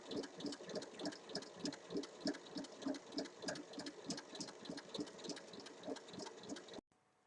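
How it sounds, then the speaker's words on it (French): Domestic sewing machine stitching a drawstring channel around the top of a tote bag, a steady rapid mechanical chatter running close and continuous for nearly seven seconds before stopping abruptly. "Donc on va piquer à 4 cm du haut, ici, et on refait tout un tour complet."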